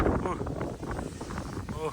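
Wind buffets the microphone on a hiking trail in Fukuoka, a steady gusty rush filling the whole moment, fairly faint, with a voice faintly audible underneath.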